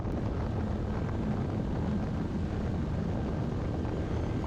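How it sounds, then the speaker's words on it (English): Steady wind roar buffets the microphone as a Kawasaki KLR motorcycle cruises at highway speed, a continuous, even rush with engine drone buried underneath and no speech. "Man, I can't get over how good this bike is on the highway."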